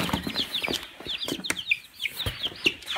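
Homestead chickens cluck and murmur close by, a busy overlapping stream of short calls and soft squawks, with no talking.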